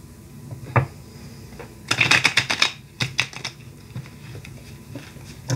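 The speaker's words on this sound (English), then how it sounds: "let me shuffle a little bit" Rapid papery riffling and clicking of tarot cards being shuffled nearby, in several short bursts with quieter taps between.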